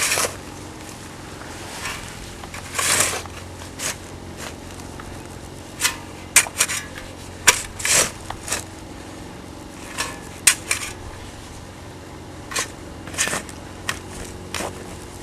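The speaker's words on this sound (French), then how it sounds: "je vais prendre une pelle et je vais faire un mélange de terre" A shovel mixes garden soil outdoors with fertilizer worked in, producing intermittent scraping and crunching strokes at irregular intervals, fairly close, with quiet gaps between scoops and no talk.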